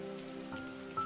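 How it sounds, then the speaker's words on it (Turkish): Soft rain patters steadily on a surface through a brief, quiet moment, a gentle hiss accompanied by low sustained tones. "Yağmur fısıldıyordu."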